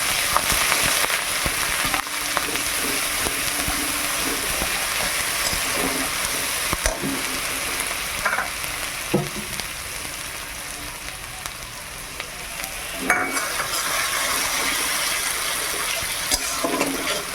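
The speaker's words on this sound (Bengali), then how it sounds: "আমি যে মশলাটা বেটে রেখেছিলাম এবার তেলের মধ্যে দিয়ে দিলাম" Ground spice paste fries in hot oil for a drumstick (sajne data) curry, a loud, steady sizzling hiss with occasional sharper spits and clicks throughout, no voices.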